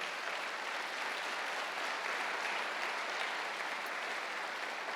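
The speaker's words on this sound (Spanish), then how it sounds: "Dale un aplauso a Dios por eso." A congregation applauds during a Spanish-language church sermon, a steady dense wash of clapping that holds evenly for several seconds with no voices over it.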